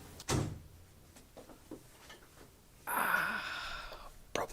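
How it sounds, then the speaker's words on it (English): An interior door swings shut with a single soft thud near the start, followed by quiet room tone, a short breathy noise and a brief knock near the end. "So do you mind if I close the door?"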